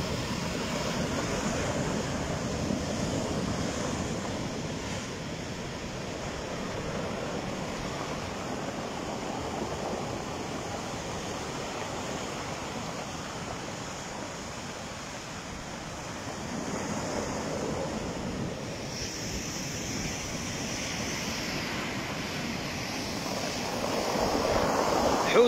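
Rough, stormy sea surging against the Casablanca shoreline by the Hassan II Mosque, a steady roar of breaking surf with wind buffeting the microphone, building slightly louder toward the end, no voices.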